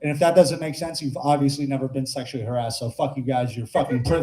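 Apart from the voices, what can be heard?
No distinct noise like a dog, phone or traffic.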